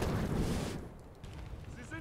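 Artillery and gunfire thunder in the Talvisota DLC video game, a loud, dense burst that fades into distant rumble as a voice speaks over it.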